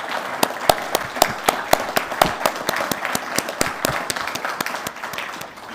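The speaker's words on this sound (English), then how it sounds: "please stand so we give you a round of applause." Audience applause at a university mechanical and aerospace engineering alumni hall of fame induction ceremony, with distinct sharp claps standing out over a lighter spread of clapping that gradually thins.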